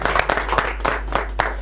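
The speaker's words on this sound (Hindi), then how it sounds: "इनके लिए और एक बार और ताली।" A crowd applauds at a political party press conference in Srinagar, a short burst of scattered, uneven clapping heard up close.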